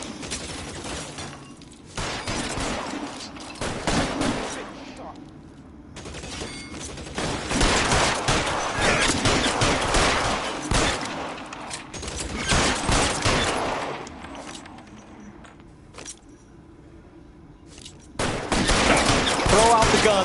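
Gunfire in the L.A. Noire video game: dense bursts and volleys of shots crackle through the scene, loud and continuous in waves with brief lulls between exchanges.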